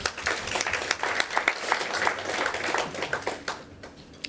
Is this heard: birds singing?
no